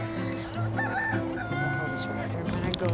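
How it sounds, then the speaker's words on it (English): Chickens at a pumpkin patch farm cluck and a rooster crows nearby, loud and busy throughout, with faint voices in the background. "Oh, chicken."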